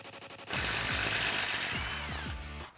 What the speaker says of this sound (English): we're going to remove the top bolt holding in the sway bar link.